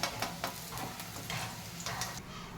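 Bitter gourd pieces fry in hot oil with a steady, close sizzle, broken by occasional scraping and stirring ticks against the pan.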